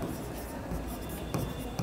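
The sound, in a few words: writing by hand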